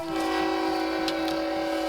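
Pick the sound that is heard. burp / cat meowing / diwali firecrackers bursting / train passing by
train passing by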